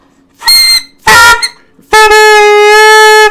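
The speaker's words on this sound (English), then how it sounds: "Too much of the mouthpiece, you'll get a honky," Three loud, brassy saxophone blasts, played with too much mouthpiece in the mouth, the first two short and the last held, with a nasal, honking tone.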